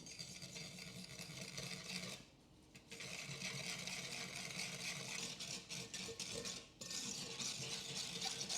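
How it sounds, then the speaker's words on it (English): Dry rub being stirred by hand into a wet teriyaki beef jerky marinade. The scraping and swishing is continuous and close, with two brief pauses, and nobody speaks. "And then thoroughly mix it all together."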